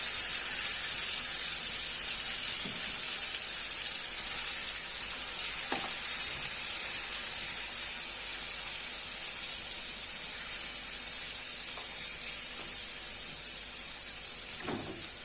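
Tomatoes and peppers fry in a pan with a steady, close sizzle, a constant bright hiss that carries on without a break and includes a few soft clicks of stirring or turning.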